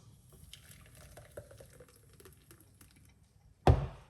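Watermelon, ginger and lemon juice trickles and drips faintly at first, then gushes in one loud, close splash as it is poured into a strainer near the end.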